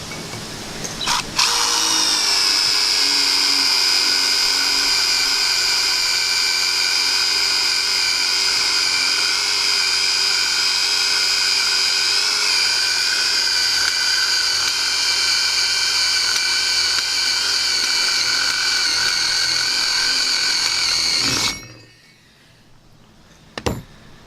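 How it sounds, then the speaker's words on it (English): A Dewalt 20V XR brushless impact driver with a 1/4 inch bit drills steadily through thick metal, giving a loud, close, continuous high whine that holds for about twenty seconds before cutting off abruptly, with no talk. "I got the impact driver here again. I got a 1/4 inch drill bit in it, and we're gonna see if we can drill through this."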